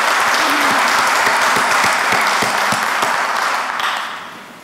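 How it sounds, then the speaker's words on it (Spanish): Sustained applause from a large audience at an event, loud and steady for about four seconds before thinning and fading at the end. "Pido un fuerte aplauso."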